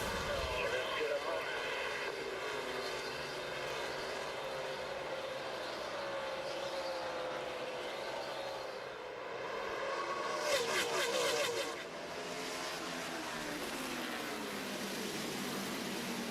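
NASCAR race car engines, including Chevrolets, roar together in a loud, sustained drone at a green-flag restart, rising in pitch as the pack accelerates, with a commentator's voice faintly underneath.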